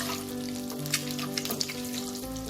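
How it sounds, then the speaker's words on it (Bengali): Boiled eggs coated in salt and turmeric fry in hot oil with a continuous crackling sizzle, dotted with small pops and spits, with no talking. "ডিমগুলোকেও আমি নুন হলুদ মাখিয়ে ভেজে নেব।"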